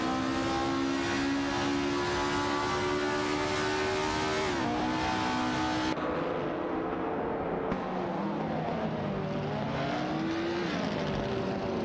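A racing car speeds away with a loud, continuous engine whine that rises and shifts pitch through gear changes, staying close and dominant throughout.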